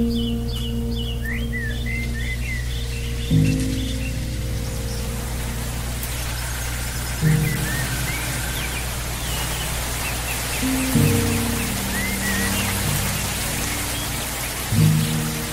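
Steady rain patters throughout an animated scene, with bird chirps scattered above it and a repeating low musical pattern underneath.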